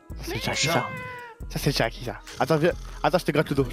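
A cat meows a long, rising cry near the microphone while a person talks to it softly in short phrases.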